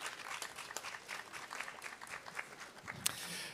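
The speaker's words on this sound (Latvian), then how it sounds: "Aplausi!" An audience at a youth political ideas event in Latvia applauds, with faint, steady, fast clapping from many hands that goes on for the whole stretch without a break.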